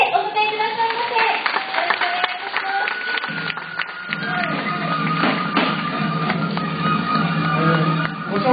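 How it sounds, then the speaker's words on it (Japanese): Audience clapping welcomes the Okada lion dance preservation group to an outdoor stage in Sapporo for the great lion dance, scattered and moderately loud, mixed with crowd murmur, drum-like thuds and shifting tones underneath. "それでは皆様どうぞ大きな拍手でお迎えくださいませ"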